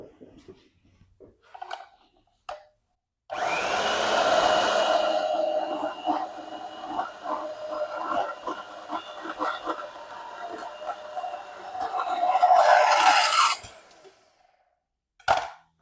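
A Rockwell 725 bandsaw cuts through welded 14 gauge steel angle with a steady, loud metallic whine for about ten seconds, followed by brief clicks and quiet.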